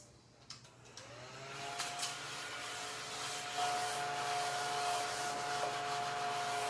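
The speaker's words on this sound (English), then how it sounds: "And yes, this is a craft vacuum." A small craft vacuum sucking up bits of ribbon on a crafting table, a steady whirring drone that starts after a few handling clicks and then runs close and continuous.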